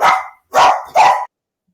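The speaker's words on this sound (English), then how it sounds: "Sorry, the mailman will not leave my house. He's like stuck out here or something, and my dog is freaking out." A dog barks at a mailman outside the house: three loud, close, sharp barks in quick succession, the last two nearly back to back, followed by silence.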